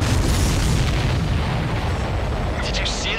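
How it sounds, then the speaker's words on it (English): A supply ship blows up in the flight combat game Ace Combat 7, a deep rumbling boom that rolls on under dense game noise for about three seconds, ending with a brief higher burst. "Did you see that explosion?"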